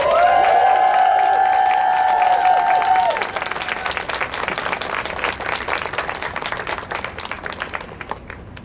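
A crowd at an outdoor river-run gathering in Toronto breaks into sustained, loud clapping and cheering, with a high shrill whoop or whistle over the first few seconds before the applause settles into steady clapping.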